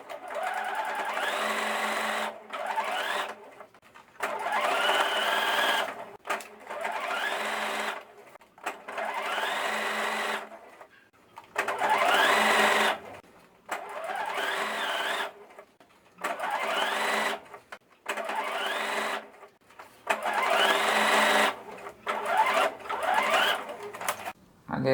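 A sewing machine stitching bias binding onto a cloth dog bib set, running in steady repeated bursts of a few seconds each with short pauses between, close and clear, with someone talking over it at times.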